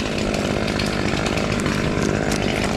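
A Husqvarna T540XP Mark III arborist chainsaw cuts through wood at a loud, steady, high-revving buzz.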